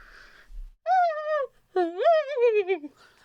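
A person's voice imitates a loon call in two long wavering, rising-and-falling hoots, the second louder and more quavering, with faint breathy sounds before and after.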